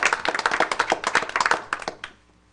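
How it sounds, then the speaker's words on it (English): Applause at a school board of education meeting, a round of clapping for the weather team, dense overlapping claps that are fairly loud and steady, then tapering off into quiet near the end. "Give the weather team a round of applause."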